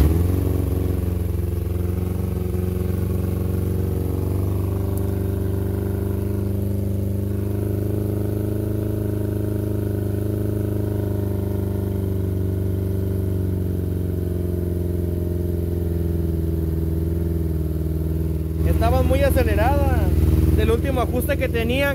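A Yamaha R6 motorcycle engine idles steadily at close range after its fuel injectors were cleaned, a smooth low drone throughout with a brief rise in pitch near the end as the revs climb.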